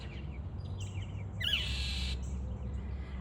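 A mockingbird calls outdoors in a short burst of bright, raspy notes, fairly faint against a low background hum.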